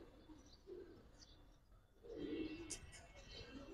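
Pigeons in a loft, including Giribaz breeds, give soft low coos and faint rustling, close but quiet, with brief chirps and a light knock at the end.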